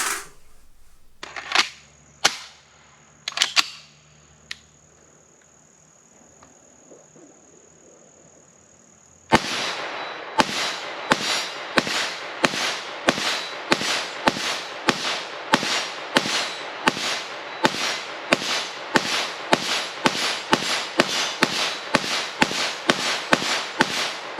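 Bullpup rifle firing outdoors: a few scattered sharp shots with mechanical clicks, a quiet pause, then a rapid, evenly spaced string of loud cracks in close succession.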